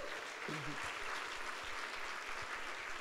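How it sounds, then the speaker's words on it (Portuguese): Steady, dense applause from a church congregation at a Sunday service fills the whole stretch at a moderate distance, with a voice briefly rising over the clapping near the start. "dê uma salva de palmas a Jesus"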